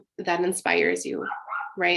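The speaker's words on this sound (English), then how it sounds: "Sorry for the puppy barking." A puppy yips and whimpers in short, high bursts beneath a person's steady talking, close by and fairly loud.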